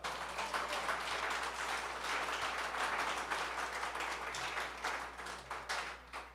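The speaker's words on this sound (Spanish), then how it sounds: "Denle un fuerte aplauso al Señor." A church congregation applauds during a worship service, a steady, fairly faint wash of clapping that holds evenly for several seconds without voices on top.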